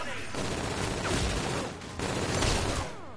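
Sustained rapid gunfire in a zombie video game, loud and continuous bursts packed close together with brief dips, and a voice talking underneath.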